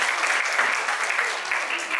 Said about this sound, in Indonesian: Tepuk tangan dong untuk narasumber kita pada sore hari ini.